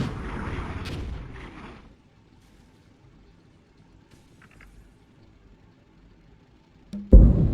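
Gunfire aimed at tanks in the war game Armored Brigade, set on a northern Italian plain: a loud opening burst rumbles away into near silence, faint distant pops follow, then a sharp heavy shot cracks out at the end.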